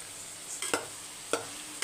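Potatoes fry in oil in a pan, a soft steady sizzle with a few sharp taps of a spoon or spatula against the pan.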